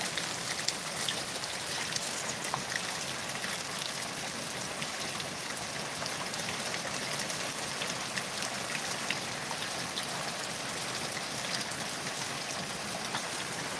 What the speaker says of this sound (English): We definitely got some rain.